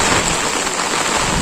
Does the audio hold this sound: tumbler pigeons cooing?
no